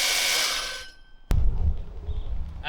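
Electric cylinder reel mower on a professional machine, its cutting cylinder engaging with a sharp click and then spinning up into a steady low whirring hum that carries on alone.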